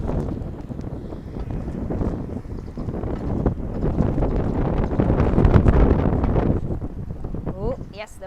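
Gusty wind during a bike ride through the back streets of Key West before a storm, roaring and buffeting loudly against the microphone as a continuous rumble that swells toward the middle.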